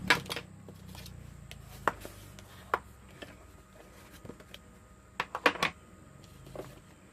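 Snips cutting card for a handmade textured card, a series of short sharp clicks and snaps at irregular intervals, close and fairly quiet with no talk.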